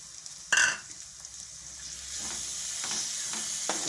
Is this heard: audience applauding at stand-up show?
no